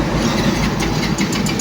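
A motorcycle engine runs after a blown spark plug was replaced, holding a loud, steady idle close to the microphone throughout, with a slight dip near the end.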